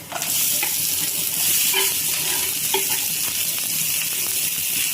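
Onion and garlic fry in a pan with urad dal and chana dal, a steady sizzle with occasional light taps and scrapes of stirring, close and without talk.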